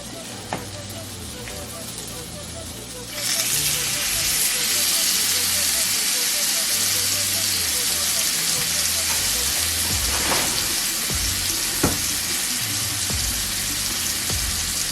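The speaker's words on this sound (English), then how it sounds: "the butter's kind of browning with the oil, so I'm going to go ahead and add the salmon" Salmon fillets laid into a pan of browning butter and oil burst into a loud, steady sizzle and hiss a few seconds in, continuing strongly with faint kitchen clatter and possible background speech.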